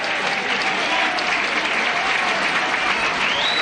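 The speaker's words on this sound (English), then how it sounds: "Graham Stemmer getting a big ovation from the crowd, coming off" A rugby league crowd at a Featherstone Rovers versus Hull match applauds steadily as a substituted player leaves the field, with dense, even clapping throughout.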